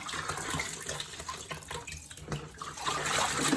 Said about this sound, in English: drain the water from the bok choy and let it sit